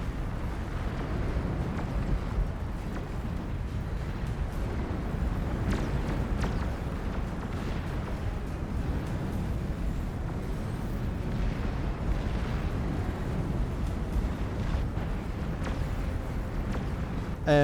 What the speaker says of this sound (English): I love this where you can just see all the artillery firing